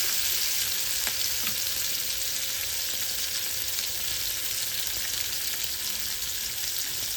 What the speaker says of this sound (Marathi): इथे जे आहे आपलं तेल तापलेलं आहे, तर मी जे आहे मच्छी यात सोडून देते